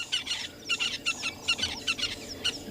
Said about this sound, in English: The dawn chorus has arrived